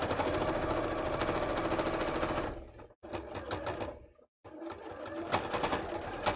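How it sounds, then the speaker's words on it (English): A sewing machine runs in fast, even bursts as it top-stitches folded fabric edges for holiday crafts, loud and close with two brief pauses between runs. "I'm also just going to quickly sew those bits that I folded in over the edge and just do a little top stitch over them"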